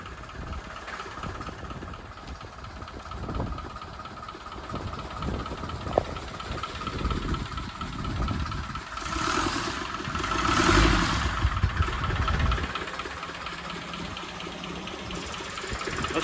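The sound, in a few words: old tractor engine running, throaty sound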